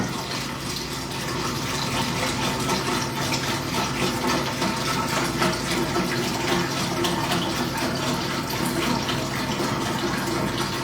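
Bone broth poured steadily into a soup pot for gluten-free chicken noodle soup, a continuous close liquid splash and gurgle running the full length at even loudness.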